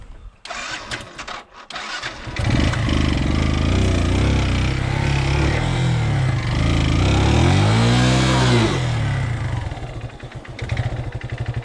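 Motorcycle engine revving hard as the bike climbs a long rock slope offroad, a loud sustained drone rising and falling in pitch through low-gear strain, with a brief idle before and after.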